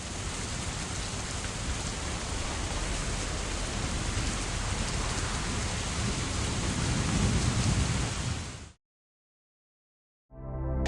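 Steady, dense rainfall in the rainy room of the VR game Vistascapes VR, a loud continuous hiss with low rumbling underneath that stops abruptly, followed by a brief return of sound after a short silence.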